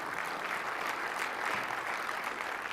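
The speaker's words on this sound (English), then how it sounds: "See now you can applaud." Audience applause fills a conference hall during a technology talk on XAML for Universal Windows apps, a steady dense clapping that holds evenly from start to finish with no voices over it.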